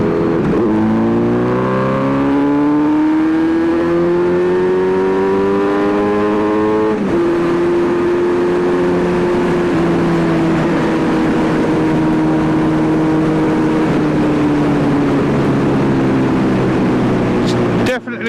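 A Kawasaki Z900RS Cafe motorcycle engine with a full Racefit titanium exhaust revs loud and close, its pitch climbing through one rise, dropping, then holding a steady drone that slowly sags.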